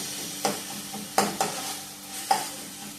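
Food frying in ghee in a pan during home lunch cooking, with a low steady sizzle under several sharp stirring knocks and scrapes spaced irregularly, fairly close.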